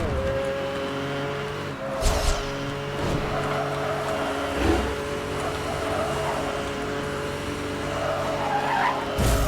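Racing car in Need for Speed: Hot Pursuit (2010) accelerating hard, its engine droning steadily with rising pitch, tires skidding and squealing at moments, loud and continuous throughout.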